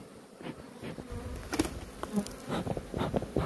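Caucasian honey bees buzz close by, a busy droning hum with individual insects flitting past, loud and continuous without any speech.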